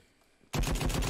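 Assault rifle gunfire in the online shooter Krunker.io breaks out after a brief quiet: a rapid, loud, close burst of evenly spaced shots.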